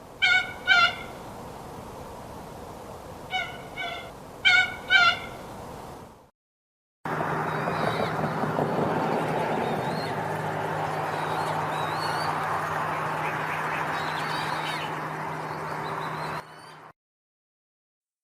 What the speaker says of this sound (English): Coot.